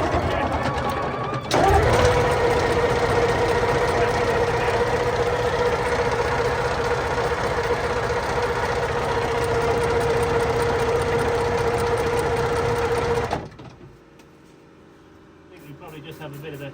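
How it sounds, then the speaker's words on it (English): Sticky starter motor cranking an engine, a steady loud mechanical whirr with a faint whine held for about twelve seconds, then cutting off abruptly to quiet. "Just have a bit of a sticky starter motor"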